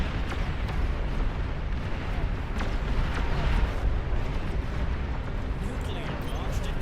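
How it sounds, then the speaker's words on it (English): Chain of explosions as Sol Invictus units in the real-time strategy game Beyond All Reason blow up and damage neighbours, a dense continuous roar of overlapping blasts and rumbling booms at steady loud level throughout. "which did explosion damage to other Sol Invictus nearby"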